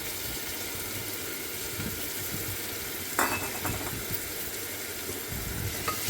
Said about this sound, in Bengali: তেলের মধ্যে ডালটা দিয়ে কষিয়ে নিচ্ছি